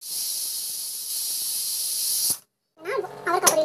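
Pressure cooker cooking a vegetable dish hisses loudly with a steady jet of steam, then cuts off abruptly, followed after a brief silence by a rising whistle burst.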